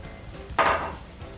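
A single clinking clatter as rice goes into a cooking pot for jambalaya, a short bright scrape with a softer tail, over quiet kitchen background.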